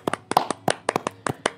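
A burst of sharp hand claps from a few people, uneven and quick, about ten in under two seconds, close and fairly loud.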